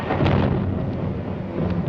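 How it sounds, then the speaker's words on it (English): Thunder from an approaching storm over a mountainside, a low continuous rumble that rolls on steadily at fairly strong level with no voices over it. "That storm's coming back."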